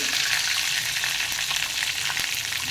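Green chillies, curry leaves and ginger sizzle in hot oil in a pan that already holds lightly toasted cashews, making a steady, close crackling hiss with faint stirring throughout and no voices.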